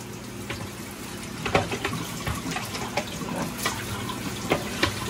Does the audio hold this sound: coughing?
no